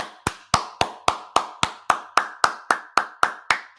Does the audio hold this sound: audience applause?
yes